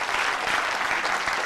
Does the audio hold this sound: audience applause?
yes